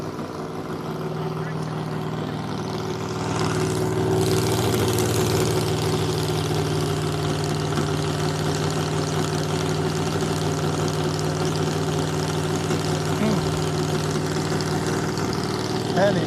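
A 1,500-horsepower 5.4-liter car engine idles at a speed festival, a deep steady throbbing drone heard close from behind the car, with faint crowd voices in the background.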